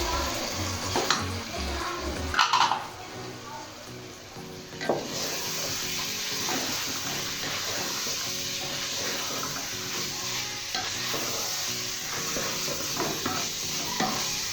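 Okra for a dhaba-style bhindi masala fries in a pan with a gentle sizzle. Occasional spoon scrapes and metallic clanks come through, with a louder knock early on.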